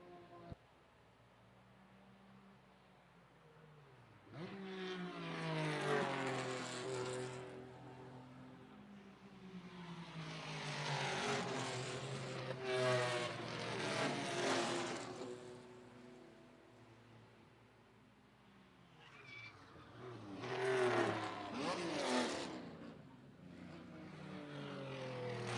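Race cars, one in the 310 and another in the 521, run nearly bumper to bumper through turn one at Lime Rock Park, their engines rising and falling in loud passing sweeps with a brief lull before a final close pass.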